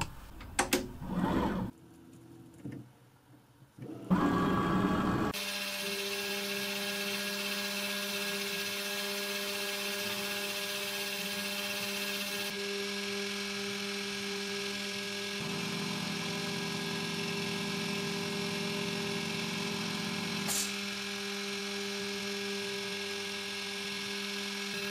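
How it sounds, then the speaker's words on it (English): A CNC mill with a 30 degree V-bit cutting copper traces on a copper-clad transparent acrylic PCB blank, starting after a few brief noises into a steady, loud spindle whine with a continuous tonal hum that shifts pitch midway. "I swap the probe for the 30 degree V-bit, which will mill the copper traces"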